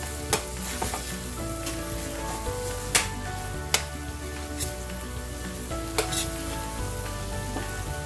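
Goan beef tongue roast with peppers and dried red chilies frying in a pan, a steady sizzle with occasional sharp clinks of a stirring utensil, close and alone with no voices.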